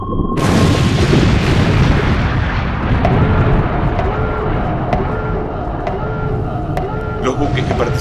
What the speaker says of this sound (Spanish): Los buques que participan en las maniobras escuchan una explosión submarina.